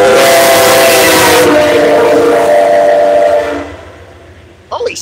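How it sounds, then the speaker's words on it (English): A passing train blasts a very loud, sustained whistle right beneath a bridge, sounding close and overwhelming before it cuts off and fades. A short sound follows at the very end. "that guy blew the whistle right under the bridge"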